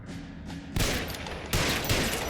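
Gunfire in the video game L.A. Noire, two sharp bursts of shots breaking into a tense background, the second landing with a louder crack, fairly close and with no talk over it.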